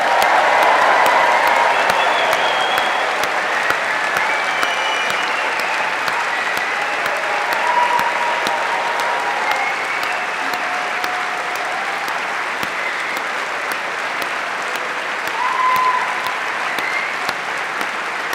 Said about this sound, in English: offer a round of applause to recognise your achievements, our graduates